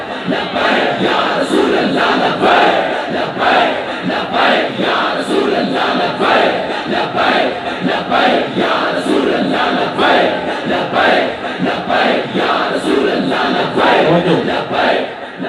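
A large crowd at a religious conference in Pakistan chants slogans in loud, rhythmic unison, repeated bursts rising and falling steadily with no pause, dense and close.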